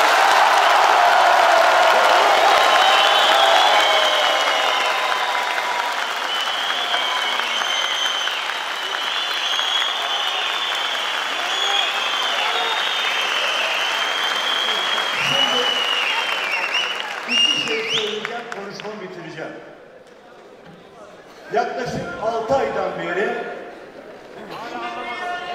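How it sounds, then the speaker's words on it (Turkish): Loud, sustained audience applause from a large crowd fills the room for most of the time, then thins out and fades as a voice begins speaking. "Asıl alkışı duyun şu anda."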